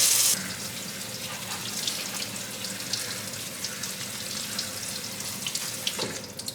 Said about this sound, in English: and then I'll rinse them off.